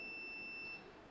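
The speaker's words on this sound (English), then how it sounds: "If we test this in continuity mode, this should beep, indicating that it is good" A multimeter in continuity test mode gives a steady electronic beep while probing a connection on a 2011-era MacBook Pro 13 A1278 logic board. The tone is faint and holds for most of the moment before cutting off.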